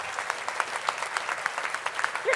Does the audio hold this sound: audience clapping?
yes